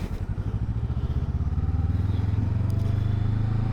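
A Honda SCL500 motorcycle engine thrums close by in a steady, rapid low pulse that grows slightly fuller partway through, with no speech over it.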